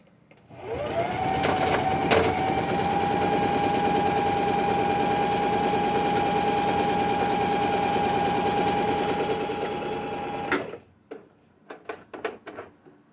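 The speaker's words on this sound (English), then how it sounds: "So I'm going to sew the compartments for the rice now." A sewing machine stitching the rice compartments of a fabric warmer runs in one loud, steady whirring burst of about ten seconds, then stops, followed by a few sharp clicks and rustles.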